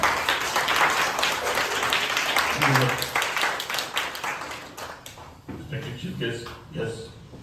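Audience applause at a Guru Nanak Gurpurab celebration, a dense steady clapping that swells for about five seconds with voices mixed in, then thins out as talking takes over.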